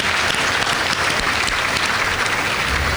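Dense, steady applause welcomes the priests at a Catholic Mass during a Marian pilgrimage celebration, with a packed crowd clapping loudly and continuously throughout.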